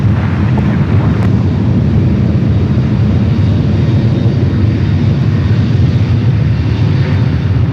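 A Japan Airlines airliner departing on the runway at San Francisco airport produces a loud, steady jet engine roar that holds constant throughout, with some wind buffeting on the microphone.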